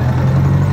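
A 1980 Honda Goldwing GL1100 motorcycle engine runs on choke, its worn carburetors showing 165,000 miles. It makes a steady, loud, low idle drone with an even throb and no pauses.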